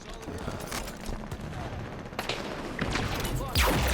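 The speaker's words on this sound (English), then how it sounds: "Incineration cannon." Halo 5 video game combat: an incineration cannon and other weapons fire in dense bursts and explosive blasts, with a louder impact near the end and a player talking over the action.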